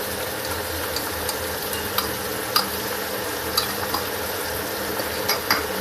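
Coriander powder, with cumin powder, roasts on low heat in a pan while cauliflower and potatoes are being cooked, giving a dense, steady sizzle close up, broken by faint scraping stir taps at irregular intervals.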